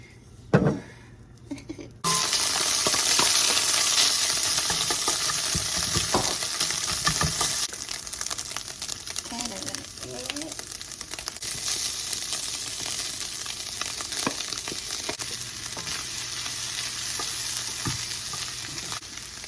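Egg and vegetables hitting hot oil in a pan for fried rice, a sudden loud sizzle that holds steady and dense with occasional stirring clatter, no voices over it.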